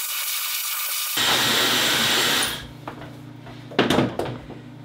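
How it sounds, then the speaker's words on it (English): A hair dryer blows steadily with a loud, broad whoosh, then switches off, leaving faint handling clatter and a few soft knocks. "But I also now just blow dry."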